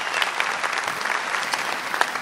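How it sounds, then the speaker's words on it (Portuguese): Dense, steady applause from an audience in a room at a year-end special show, continuous, close and loud throughout with no pauses. "Primeiro uma salva de palmas para as pessoas"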